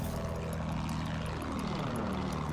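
An attack aircraft's propeller engine drones in Battlefield 1, a steady, loud buzzing hum with a pulsing throb, filling the whole moment without pause.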